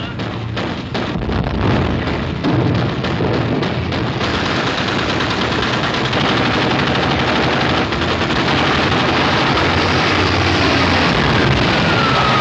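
Warship anti-aircraft guns pound in continuous heavy bursts during a WWII naval battle scene, dense rapid firing with booming blasts and aircraft roar beneath, loud and close throughout.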